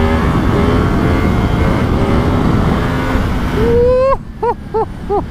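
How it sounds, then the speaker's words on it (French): A 2022 Yamaha MT-10 crossplane engine roars at a sustained high pitch, then drops and blips through several sharp revs in quick succession near the end. "ce bruit moteur du crossplane est une"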